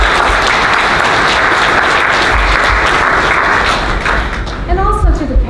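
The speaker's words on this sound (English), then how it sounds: "I think we all should give you a round of applause." An orientation audience of new Commerce students and their parents breaks into loud, close applause that holds steady, then thins out near the end as a few voices begin to emerge.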